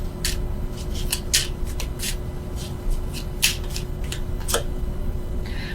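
Tarot cards being shuffled and one card drawn, crisp papery riffles and slides in quick irregular bursts, close and fairly soft over a low steady hum.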